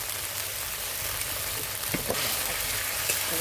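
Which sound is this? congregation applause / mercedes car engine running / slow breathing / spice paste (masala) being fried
spice paste (masala) being fried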